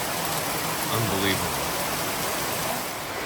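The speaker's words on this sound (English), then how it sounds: "This is what you call the start of rainy season." Heavy tropical rain pours down in a dense, constant roar at the start of rainy season, loud and close throughout, with a man's brief remark partly buried in the downpour.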